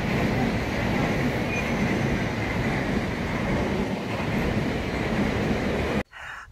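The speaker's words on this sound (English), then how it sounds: "It's 15 minutes by train" A commuter train ride, with a steady, loud rumble of wheels and carriage noise running continuously before cutting off abruptly near the end.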